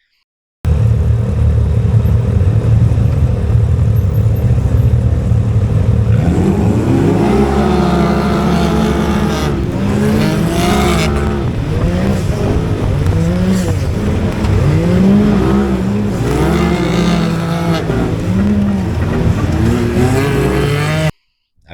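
Race vehicles roar through a heat on a dirt track after the green flag, a sustained loud wall of engine noise with rising and falling revs as several machines accelerate together, no talking.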